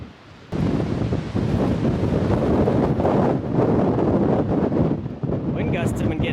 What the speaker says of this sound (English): Wind gusts have been getting stronger over the last hour, trying to blow me off the mountain.